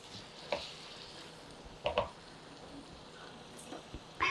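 Ginger garlic paste fries in a pan for mutton liver fry, a soft, low sizzle with a few scattered clinks and scrapes of a spoon.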